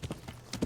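Horse hooves clip-clop in Kingdom Come: Deliverance, a few quick soft thuds at the start and a firmer cluster near the end, close and moderately quiet.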